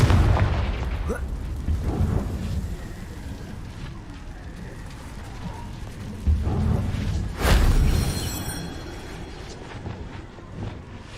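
In Hogwarts Legacy, a Confringo spell explodes in loud booms, with a heavy burst near the start and another sharp blast later, each trailing into a crackling, rain-like rumble of debris.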